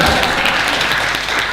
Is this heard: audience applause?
yes